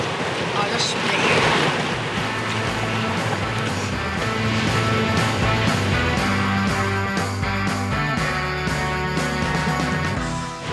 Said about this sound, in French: J'aime mieux écouter le son des vagues à côté de moi qu'être dedans.